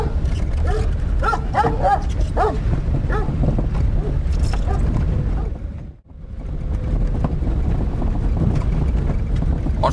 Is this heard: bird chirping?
no